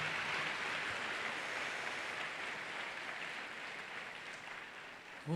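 A church congregation claps loudly and continuously in a dense, sustained burst of applause that fades slightly toward the end before a voice cuts in.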